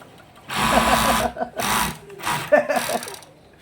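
A garment sewing machine is run in several short bursts of close, whirring stitching with brief pauses between them, and someone speaks around the bursts.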